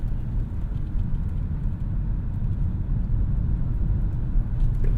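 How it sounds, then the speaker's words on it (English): A 2024 Lexus NX 350 Hybrid with all-wheel drive pulling away from a stop, a steady low engine and road rumble heard from inside the cabin, fairly loud and unbroken, with no talking. "it did get up off the line thanks to all-wheel drive and the hybrid assist."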